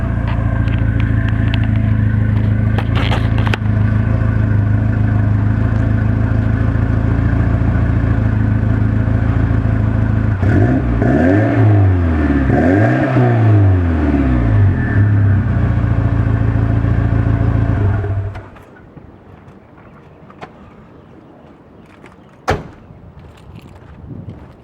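A 1987 Porsche 944 Turbo fitted with a Lindsey Racing kit idles loudly at the exhaust, surging through several revs mid-way before the engine cuts off, leaving near-quiet with a sharp knock or two.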